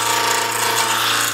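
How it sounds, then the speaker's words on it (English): Wood lathe run in high gear at top speed while turning a spindle, a steady, loud, close mechanical whirr with a droning hum and faint rattling texture, unbroken and without talk. "I got both of these lathes in their high gear, and I just spin as fast as they'll go."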